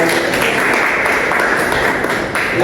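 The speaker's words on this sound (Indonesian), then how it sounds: "Tepuk tangan untuk kelompok Yusau." Classroom applause for a student group after its presentation, a loud, dense burst of clapping that holds steady with a brief dip near the end.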